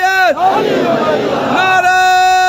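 A crowd at a religious gathering in Hyderabad, Sindh, chants a slogan back in one loud sustained surge of massed voices, rising and falling together, close and full.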